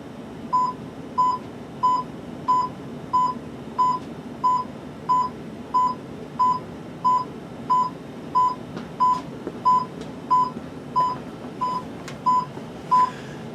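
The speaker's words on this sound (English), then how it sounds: "As you can hear it beeping right now, it's looking for its engine" A Polar Express model train, run from a universal remote controller, beeps while it searches for its engine: a steady series of about twenty evenly spaced short electronic tones, clear and alone.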